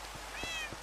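A baby cat meows in the Minecraft video game, a short soft high mew over quiet background with faint low thumps, heard once and fairly close.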